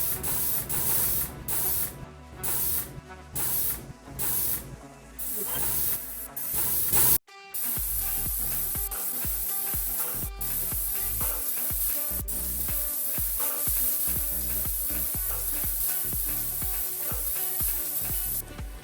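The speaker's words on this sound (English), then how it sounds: "I used a spray gun with high quality paint" Hissing bursts from a paint spray gun, several short blasts then a long continuous spray, loud and close, with no talking.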